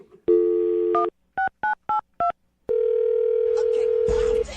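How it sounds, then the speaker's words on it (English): A telephone plays a steady dial tone, then a quick run of four separate touch-tone beeps, then a long held tone, as a number is dialed for a call on a radio show; other sounds creep in near the end. "I'll dial her phone number right now"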